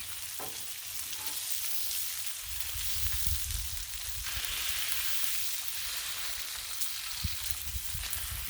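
Thick-cut pepper bacon sizzles steadily on a flat griddle, a continuous close crackling hiss with occasional louder pops and no voices.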